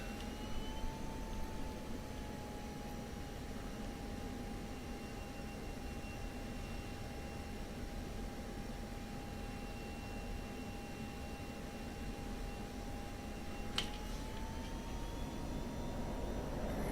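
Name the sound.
jet aircraft taxiing and taking off, from video game DCS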